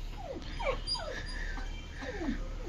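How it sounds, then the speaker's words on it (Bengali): A dog on a cattle farm whimpers and yips in a string of short, high, falling whines, close and moderately loud over a low steady background hum. "এখানে কি কুকুরও আছে একটা।"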